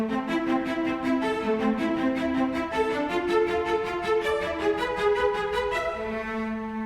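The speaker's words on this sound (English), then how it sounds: "A rhythmic part on cello sounds like this." A MIDI cello plays a steady, rhythmic line of short repeated bowed notes, shifting pitch every few beats, continuous and fairly loud.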